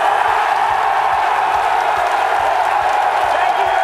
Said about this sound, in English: It sounds like they're cheering on the gladiator, and perhaps they are.